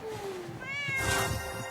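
A cat meows once in a Free Fire video game animation, a clear rising and falling meow heard close over a soft game background hum.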